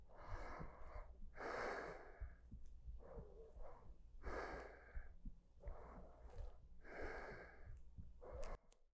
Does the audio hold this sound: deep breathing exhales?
yes